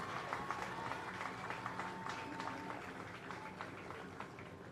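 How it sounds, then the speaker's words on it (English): Applause for valedictorians at a police college parade ground, a steady wash of clapping from a crowd that continues evenly throughout, moderately distant. "A round of applause for the valedictorians."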